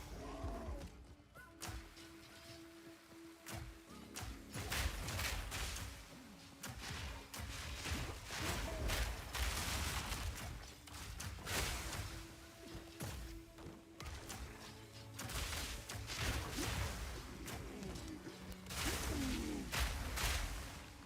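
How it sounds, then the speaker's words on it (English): Explosions boom almost continuously in a video game, dense overlapping thuds and blasts at steady high loudness with constant crackle beneath, no talking. "A lot of explosions going off. Big boom. Big lotta booms."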